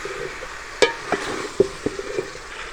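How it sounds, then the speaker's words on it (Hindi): Mixed vegetables with potatoes are stirred in a pot, producing several distinct scraping clinks and knocks at an irregular rhythm over a soft sizzle. "तो अच्छा सा मिक्स कर लेंगे"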